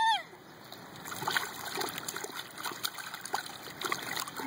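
A child kicks and splashes water with the feet outdoors in the sun, giving a rapid, irregular run of small splashes and drips, close to the microphone, with an adult's voice briefly over the splashing.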